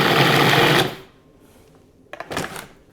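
A blender grinds rolled oats, graham crackers, protein powder and chocolate chips in a loud buzzing whir that stops abruptly after under a second, followed by a quiet pause and then a shorter second burst of whirring.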